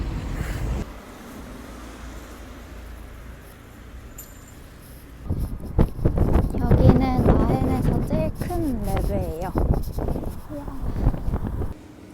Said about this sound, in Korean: 근데 바람 진짜 장난 아니에요.